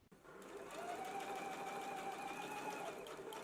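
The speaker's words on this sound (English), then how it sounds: "now we can stitch across in 1 1/4 inch seam allowance" A sewing machine runs continuously while stitching a 1 1/4 inch seam allowance, a close, steady whirring hum that starts abruptly and holds for about three seconds.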